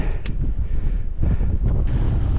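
Strong wind buffeting the microphone on the grassy summit of Low Rigg in the Lake District, a loud continuous rumbling roar with gusty surges and no voices.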